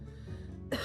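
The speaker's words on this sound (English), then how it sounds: "he gets interrupted when he sees the humans coughing up blood" In an anime, humans cough up blood while a ritual drains their bodies: one sharp, rough cough bursts out near the end over a low, steady background rumble.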